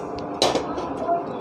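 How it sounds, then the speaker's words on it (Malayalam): A cooking pot is set down on a stove with a single close metallic clunk and a short rattle, followed by a faint ringing tail over quiet background. "അപ്പോൾ നമ്മളിത് ചട്ടി വെക്കുവാണേ"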